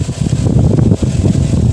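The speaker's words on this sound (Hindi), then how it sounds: "देखिए कितना स्पीड हवा है, बहुत तेज हवा है।" A homemade table fan driven by a 12V DC motor blows a strong stream of air, giving a steady, close, rushing wind noise that buffets the microphone without pause.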